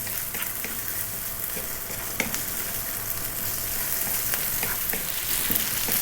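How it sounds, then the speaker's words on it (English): Spaghetti stir-fried in a pan sizzles steadily with a dense crackle, with occasional scraping stirs and clicks over a continuous close frying hiss. "We're going to go for another 3 minutes stir frying this around."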